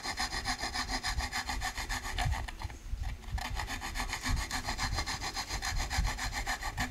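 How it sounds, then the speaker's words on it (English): Hand rasp filing wood in steady, rapid back-and-forth strokes, a close, loud coarse scraping rhythm with one brief pause midway. "So we're going to use this rasp here."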